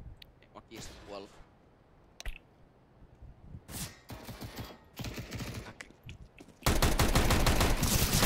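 Bursts of CS:GO gunfire, scattered shots early and then a loud sustained volley at the end, heard alongside keyboard clicks and players talking.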